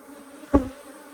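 Africanized hybrid honey bees hum low and steady in an open three-box hive in southern Arizona, with one bee zipping close past in a brief, louder buzz.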